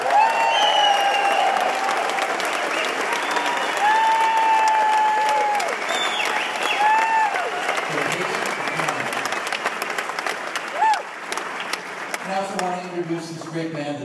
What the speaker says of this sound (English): let's give a round of applause to our crew